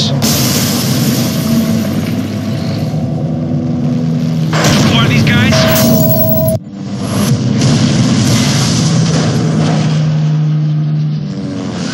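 Explosions from power plays going off in the Split/Second racing game, booming under revving car engines and dialogue, with a sharp crash and blast partway through before the engine roar and rumble resume.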